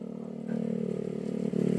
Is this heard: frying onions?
no